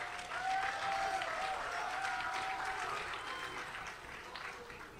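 A crowd at a political speech event in Alor Gajah gives a steady round of applause that holds for several seconds before easing slightly, with faint voices underneath.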